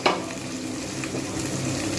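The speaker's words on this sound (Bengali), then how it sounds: "আমি আগে প্রথমে কপিগুলোকে খুব ভালো করে ভেজে নেব" Cauliflower florets fry in a pan for cauliflower posto, giving a steady, close sizzle with light stirring throughout and no voices.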